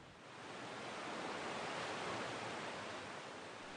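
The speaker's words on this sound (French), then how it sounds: "En raison des vents violents et de fortes vagues, l'eau à l'embouchure du fleuve Yangtze est turbulente." Turbulent water churns at the mouth of the Yangtze River in strong wind, a steady broadband roar of waves and gusts that swells slightly and then holds, with no distinct individual splashes.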